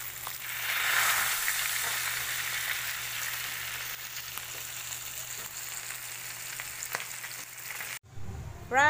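Pampano fish fries in hot oil with a loud, steady sizzle and occasional sharp pops, close up, before ending abruptly into a brief burst of different noise.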